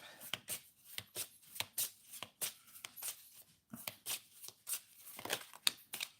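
Tarot cards are handled and shuffled on a low table, making a rapid run of crisp, soft riffling slaps and flicks that are close and faint, with no voices.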